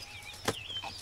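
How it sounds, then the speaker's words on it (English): A baby duckling in a box gives a single short, high peep, quiet and close, over faint background noise. "Baby duck."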